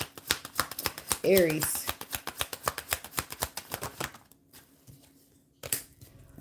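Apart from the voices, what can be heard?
shuffling tarot cards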